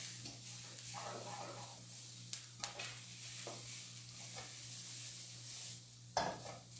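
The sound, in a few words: garlic sizzling in pan for chickpea stroganoff filling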